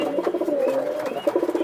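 A pair of original punky pigeons cooing inside a cage, with repeated throaty coos pulsing in a steady rhythm, close and fairly loud, and no talking.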